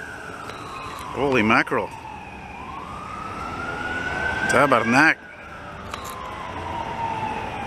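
An emergency vehicle siren wails steadily in the background in Montreal, rising and falling, while people talk excitedly over it in two short bursts.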